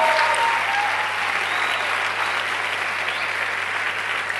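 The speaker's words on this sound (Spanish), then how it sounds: "Aplaudí con un aplauso emotivo al Señor" Church congregation at a Spanish-language sermon breaks into warm sustained applause, a dense wash of clapping from a large crowd, steady and loud without pause.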